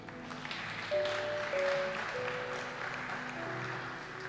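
Steady, dense applause from a church congregation during a sermon, a continuous wash of clapping over sustained organ-like tones, moderately distant and without distinct speech.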